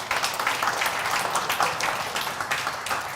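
An audience at the KZN Top Business Women 2022 event gives sustained applause, a dense, even patter of many hands clapping at moderate loudness.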